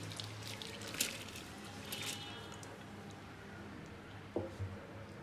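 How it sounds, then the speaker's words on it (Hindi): Dry lentils are tipped into a pot of boiling water on a home stove, giving a few close splashes and a soft pour, then quieter bubbling and a final wet plop. "पानी में बॉयल आ गया है और अब मैं इसमें दाल ऐड कर दूँगी।"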